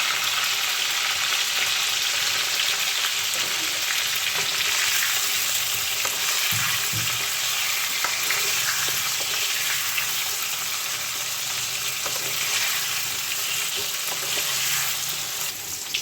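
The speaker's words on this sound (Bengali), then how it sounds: "আমার আলুগুলো কিন্তু ভালোভাবে ফ্রাই হয়ে গেছে এবং সুন্দর একটা কালার চলে এসছে" Potatoes fry in hot oil in a pan for a Bengali chicken and potato curry, giving a steady, close, loud sizzle throughout with occasional stirring scrapes and no talking.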